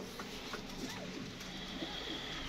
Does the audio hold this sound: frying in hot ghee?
no